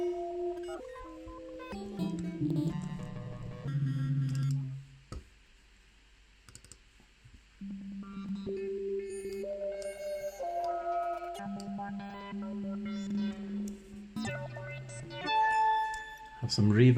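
Synthesizer in Ableton with an LFO modulating the filter frequency, sustained tones sweeping and shifting in brightness, with a brief drop to near silence midway before the patch returns, moderately quiet.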